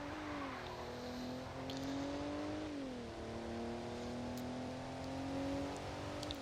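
A race car engine in the video game Evolution GT, driving on a wet road, drones steadily and climbs in pitch. It drops once as it shifts gear and then climbs again, heard faintly and without talk.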